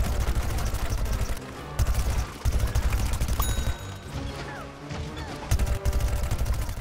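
Dense video-game gunfire from Plants vs Zombies Garden Warfare 2 during a boss fight against Captain Smasher, with rapid repeated shots layered over busy game music and effects, steady and loud throughout.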